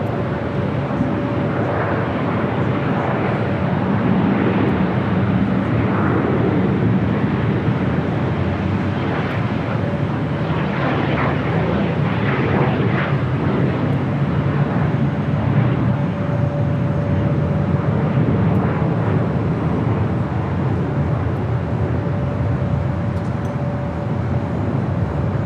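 An airliner takes off from runway 25 right at LAX, a KLM jet heading out on the south side, its broad engine roar steady and loud for the whole stretch, with wind buffeting the microphone.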